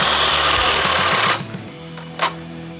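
DeWalt Flexvolt Advantage hammer drill running in speed 3, a fast rattling hammer action for just over a second that cuts off abruptly, followed by a low whir and a short burst.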